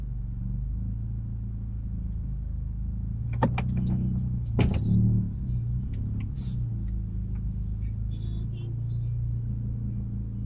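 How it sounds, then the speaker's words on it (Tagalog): Toyota Altis with an aircon problem being driven into a repair shop: a low, steady engine rumble runs throughout, with a brief burst of sharp clicks and knocks midway and faint scattered rattles after. "Ipapasok ko na yung sasakyan."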